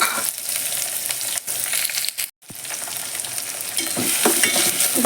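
A large sliced onion is stirred in a hot cooking pan, giving steady close sizzling with scraping strokes of the spoon and a brief pause midway.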